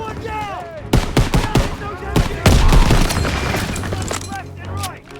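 Machine gun fire in the Call of Duty WW2 campaign, rapid loud bursts of shots hammering in quick succession with heavy booming impacts, and shouting voices and battle noise mixed in throughout.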